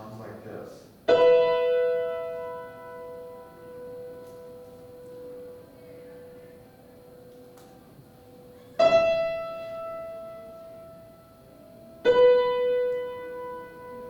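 Three struck musical tones ring out for interval ear training, each starting sharply and then sustaining steadily in a quiet room.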